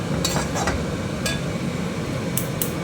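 Green peas mixture stirred in a pan, with a steady low cooking hiss and several sharp scraping, clinking strokes of a spoon against the pan spread irregularly, close up and without talk.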